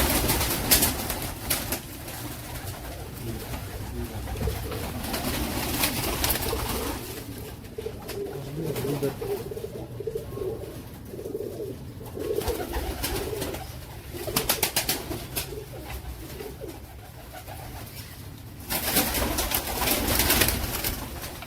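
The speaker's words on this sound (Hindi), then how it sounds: "सियालकोटी कबूतर, ये इनको केठे वाले भी कहते हैं।" Soft, low cooing of Sialkoti pigeons repeats throughout, several birds murmuring together at close range, with occasional rustles and flutters in the background.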